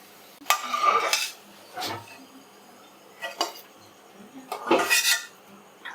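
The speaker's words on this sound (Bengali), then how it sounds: "ভাতটা আমি হাঁড়ি থেকে একটা এই থালা বড় থালাতে আমি এরকমভাবে নিয়ে একটু হাওয়া খাইয়ে নিচ্ছি" Cooked rice for hilsa fish biryani is scooped from a pot onto a large plate, a few bursts of metal scraping and clinking between short pauses, close by, no speech.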